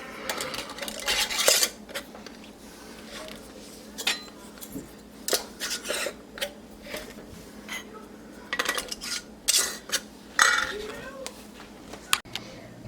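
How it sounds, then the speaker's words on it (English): Cleaned metal lids and rings clinking against filled glass canning jars of beef in broth, a run of sharp clattering taps and scrapes that come in bursts, with a voice talking intermittently. "And then we're going to add our lids. These are all cleaned. And our rings."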